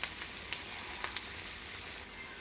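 Colocasia (taro) 65 pieces fry in hot oil with a soft, steady sizzle and faint crackles and pops, heard up close and alone.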